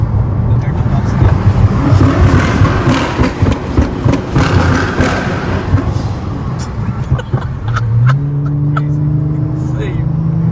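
A 2012 Nissan GT-R R35 builds speed toward its top end, a loud steady engine roar with rising harmonic tones near the end, heard from inside the car while people talk over it.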